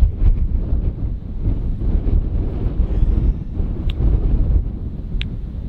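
Strong wind gusting steadily across a desert campsite on the Arizona Peace Trail, a dense low roar of buffeting on the microphone with no pauses and a couple of faint brief clicks near the end.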